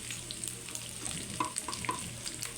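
Pork pieces for humba sizzle and spit steadily in a hot pan as their fat renders out, with a dense crackling bed and occasional sharper pops and scraping stirs, close and continuous.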